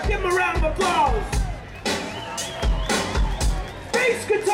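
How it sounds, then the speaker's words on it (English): Audience cheering and whoops for a band member during a live outdoor concert by a band at a city festival, crowd noise rising in bursts with music or stage sound underneath, fairly loud and continuous. "Give him a round of applause."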